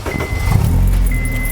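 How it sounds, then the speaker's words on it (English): A Honda Civic Type R EP3 engine starting on a dyno after an ECU remap, a loud close crank that catches into a low rumble over about a second and a half, no talking. "If I start this up, I actually don't know what's going to happen."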